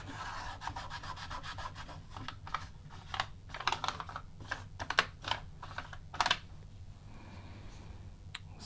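Keys clicking on a Tandy TRS-80 computer keyboard being tested, an uneven run of close, quiet taps that bunch into louder bursts midway, over a steady low hum.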